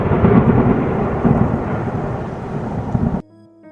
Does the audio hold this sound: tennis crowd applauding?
no